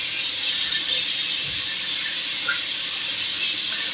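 Food frying in a pan with a dry-fry process, a loud continuous sizzling hiss with occasional soft pops, steady throughout and no speech.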